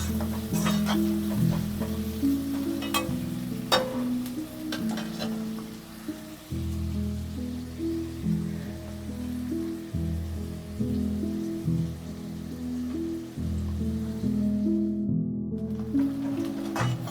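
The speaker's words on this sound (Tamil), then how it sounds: "வெங்காயம் நல்லா ப்ரௌனிஷாக வதங்கணும்" Onions sauté in a hot pan for a Tamil fish gravy, giving a continuous soft sizzle broken by repeated stirring scrapes and clinks, close and steady throughout.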